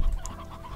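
Chickens clucking in the video game Slime Rancher, a short burst of close, low fowl clucks lasting under a second with no talking over it.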